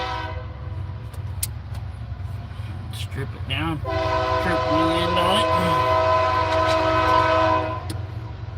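A train rumbles past nearby, its horn sounding in long loud blasts over the steady rail noise, while someone speaks briefly beside it.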